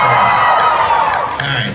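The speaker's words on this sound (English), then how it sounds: "I want you to cheer for the thing you care about more" An audience cheers and whoops in a short burst of loud crowd noise.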